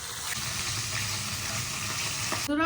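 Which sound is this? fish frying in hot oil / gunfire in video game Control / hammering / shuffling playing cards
fish frying in hot oil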